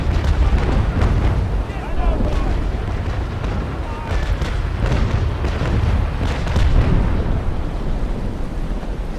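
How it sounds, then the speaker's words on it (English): A ship's fire roars steadily across a wooden warship in the naval sailing game Naval Action, a dense continuous rumble with scattered cracks and booms throughout, loud and unbroken, with a voice talking over it. "Now look at that fire, quite happily raging away now."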